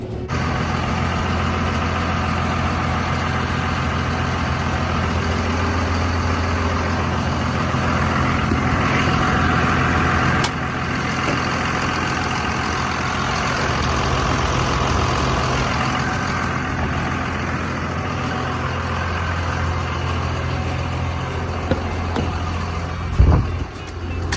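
A truck idles close by with a steady, droning engine hum that continues throughout, while backup beeps sound as it reverses; no one speaks.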